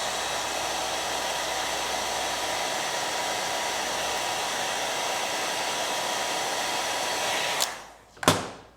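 A heat gun blows steadily while warming the ferrule of a golf club during shaft removal, a constant loud airy hiss that cuts off near the end, followed by two sharp clicks.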